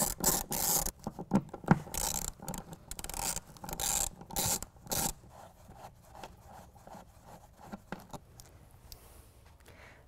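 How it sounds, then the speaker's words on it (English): A T50 Torx driver works bolts out of a pickup truck bed on a 2017 Honda Ridgeline, with a burst of rapid ratcheting clicks early, then quieter scraping and rubbing handling noises. "I'm gonna go ahead and take my T50 and I'm gonna pull out those two bolts."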